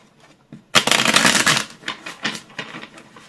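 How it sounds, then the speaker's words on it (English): A tarot card deck gets a quick, loud riffle shuffle, followed by a series of softer, irregular flicks and taps as the cards are squared up close by. "I'm going to shuffle this deck so we can get you your answer."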